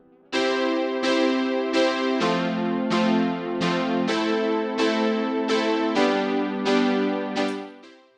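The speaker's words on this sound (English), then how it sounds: "a really easy way to make something sound good is using the 1-4-6-5 rhythm" Music built on a 1-4-6-5 chord progression: bright plucked or struck chords repeat in an even pulse, ringing and decaying with each strike, played alone at a moderate level before fading out.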